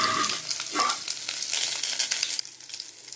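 Shallots hitting hot tempering oil with dried red chillies give a loud crackling sizzle that eases off toward the end, with a few spoon scrapes, heard close with no talking.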